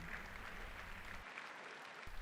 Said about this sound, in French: Merci, applaudissez pour Jésus.